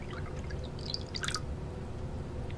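Water drips in a small trickle while a container is refilled for egg painting, a brief soft run of droplets over a quiet room background.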